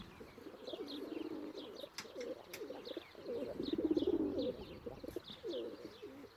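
Tumbler pigeons coo steadily in a garden loft, overlapping low rolling calls rising and falling over several seconds, with scattered small bird chirps in the background.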